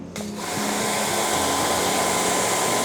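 A high-pressure washer with the spray gun supplied with the machine, set to roughly 60 to 90 bar, sprays to clean an air conditioner: a loud, steady hissing rush starts abruptly over a low motor hum and continues without pause.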